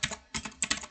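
Rapid keystrokes on a computer keyboard, close and crisp, arriving in quick uneven bursts with short pauses, no voices.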